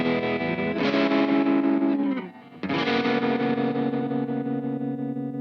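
Gibson ES-340 electric guitar with a tremolo effect, two sustained chords pulsing steadily and ringing out close and loud, separated by a brief dip between them, with no talking.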